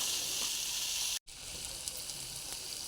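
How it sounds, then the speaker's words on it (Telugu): Potato curry with coconut paste frying in a pan gives a steady, close sizzle and hiss of oil, with a brief cut in the sound partway through and no talking. "బాగా కలుపుకోవాలి, బాగా ఫ్రై అవ్వాలండి. కొబ్బరి పేస్టు అంతా బాగా ఫ్రై అయిపోవాలి."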